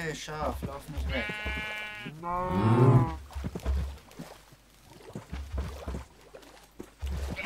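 Sheep bleating in modded Minecraft, two long wavering bleats close together near the start, loud and clear, with a quieter stretch of game noise and a voice talking around them.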